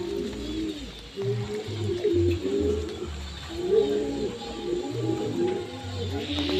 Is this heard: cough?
no